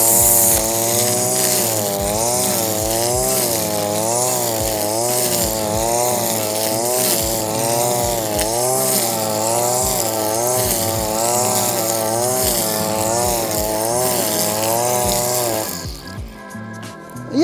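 A ZimAni 143R-II petrol grass trimmer runs loudly and continuously, engine pitch wavering steadily up and down, then cuts off abruptly near the end.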